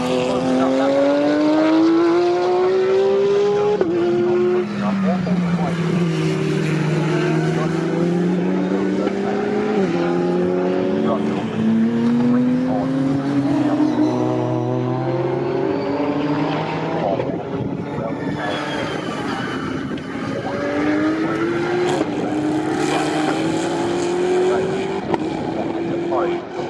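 GT race cars thunder down the straight at the Snetterton circuit during a championship race, a continuous loud engine roar with rising and falling pitch as several cars pass, a commentator talking over it.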